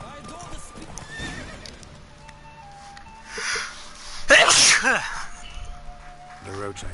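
Horse hooves clip-clop at speed during a race in The Witcher 3: Wild Hunt, with a loud whinny midway, under voices and game sounds.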